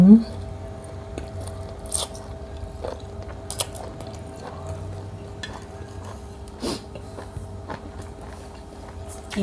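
Someone eating stir-fried Korat noodles, pad mee Korat made Kuy Buriram style, with close, repeated chewing and soft bites, broken by a few sharp clicks and dish clatter under intermittent talk.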